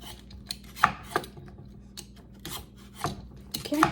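Butternut squash being peeled with a Pampered Chef potato peeler, a series of short rasping scrapes at an uneven rhythm, close and fairly quiet.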